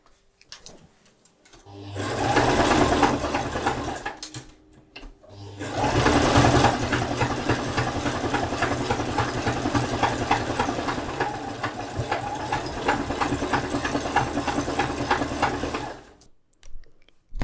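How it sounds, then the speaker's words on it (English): A sewing machine runs a zigzag stitch across a summer mini dress, sewing back and forth to lock the stitches; a steady close mechanical whir with a fast ticking rhythm, brief stop near the start, then a long continuous run. "This zigzaggy stitch here, and I'm going to do it a couple more times to really lock it in place."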